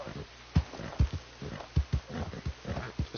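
A horse in the video game Red Dead Redemption 2 walks with uneven clip-clop hoofbeats, moderately close, and faint breathing and movement come between the steps.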